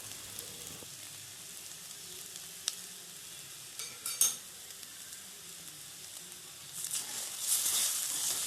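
Egg poriyal stirred and fried in a pan, with a quiet steady sizzle and occasional scraping clicks that grow louder and brighter toward the end, alone without speech.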